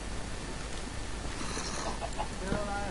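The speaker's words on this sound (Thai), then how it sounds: "มีไก่จ๋าได้ยินไหม" A Minecraft chicken clucks a few times, brief soft clucks over a dense, noisy game background with no clear talk.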